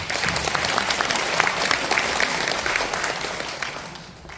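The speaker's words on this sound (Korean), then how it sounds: "박수로 맞이해 주십시오" An indoor audience at a National Assembly policy forum of a home long-term care association claps continuously and evenly for about four seconds, fading slightly at the end.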